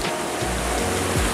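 Swollen monsoon river at Bhairabkunda rushing past in a steady, loud roar of water, continuous broadband rush with no breaks and no voices.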